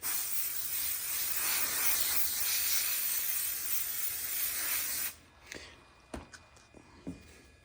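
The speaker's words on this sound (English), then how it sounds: "We're going to spray this adhesive." A continuous spray of Madeira MSA 1100 aerosol adhesive hisses steadily for about five seconds, then cuts off, leaving a few soft clicks and handling noises.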